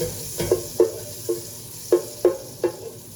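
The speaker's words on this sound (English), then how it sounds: "I'm going to saute my onion. That's why I put some butter in the pan." Onion sautéing in butter in a pan for mushroom risotto with brown rice, a soft sizzle under a series of sharp utensil clinks and scrapes against the pan, close and moderately loud, no voices.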